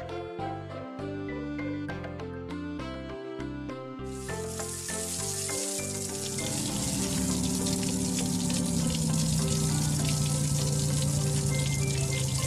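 In a children's cartoon, a water truck sprays a shower of water: a steady hissing spray rises after a short plucked musical passage and continues loud to the end.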